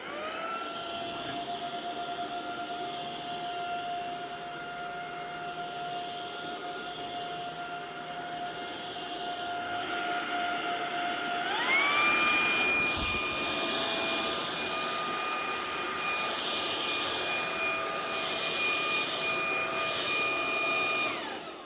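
A Proscenic P11 cordless vacuum cleaner runs steadily, picking up coffee grounds, with a whining motor tone that jumps higher and louder midway as it switches from economy to maximum mode, continuous and close.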